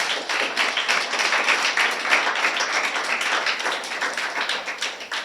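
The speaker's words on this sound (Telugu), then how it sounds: "కొట్టో చప్పట్లో ఒకసారి" A church congregation claps together in a steady run of dense, fairly loud hand claps that carry on throughout, with no one speaking over them.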